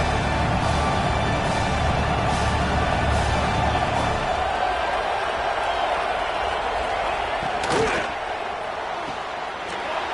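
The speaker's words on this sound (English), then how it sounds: "Listen to the crowd energy here in the early going" Football stadium crowd roaring in a steady, dense wash of cheering and noise from many voices, with a thud near the end and the roar easing slightly.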